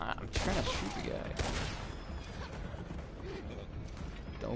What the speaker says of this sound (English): Come on, I'm trying to shoot the guy.